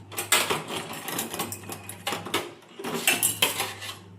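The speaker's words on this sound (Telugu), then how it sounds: "ఒక చిన్న కడాయి పెట్టుకోవాలి" A small kadai pan is set onto a stove while cooking dal tempering, giving repeated close metallic clanks and scrapes of cookware in an irregular rhythm, with no talking.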